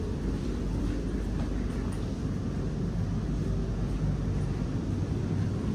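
An empty Busan metro train runs with a steady, low rumble and rolling hum, continuous and even throughout, heard from inside the carriage with no voices.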